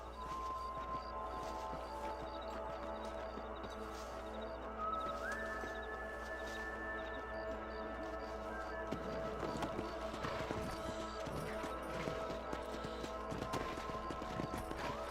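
Hooves clip-clop at a steady walking rhythm in Red Dead Redemption, close and fairly quiet under a soft ambient game backdrop, with brief tonal game sounds, the hoofbeats growing busier and more uneven toward the end.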